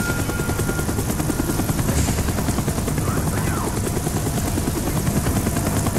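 A loud, steady helicopter rotor thrum in the video game Call of Duty: Black Ops fills the whole clip, with dense rumbling noise and faint background sounds beneath it.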